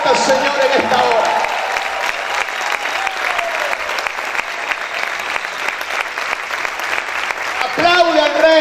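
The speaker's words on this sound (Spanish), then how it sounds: "¿Cuántos pueden gritar y aplaudir fuerte al Señor en esta hora?" A church congregation claps loudly and continuously in a dense, sustained wash of applause, with a voice calling out briefly at the start and again near the end.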